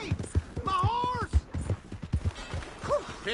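Horse hooves clip-clopping in the video game Red Dead Redemption 2, a steady run of close hoof beats that is partly masked by a voice talking over it throughout.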